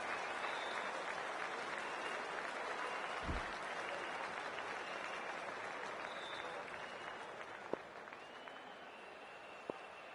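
Steady crowd applause and cheering fills the ground of a PS5 cricket video game match between MI and KKR, a dense continuous roar with a few sharp claps poking out near the end.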